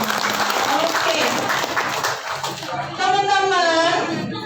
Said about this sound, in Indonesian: Tepuk tangan buat teman-teman